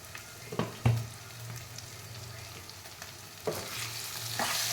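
Brinjal stir-fry (kathirikai poriyal) is mixed in a pan after ten minutes of covered cooking. A few soft spoon scrapes and clacks stand out over a quiet, steady low hum, with no talking.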